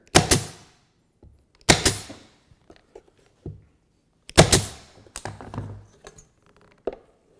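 A nail gun fires into a wooden floating shelf in a series of sharp, separate bangs, several loud shots spaced a second or two apart with brief tapping between them.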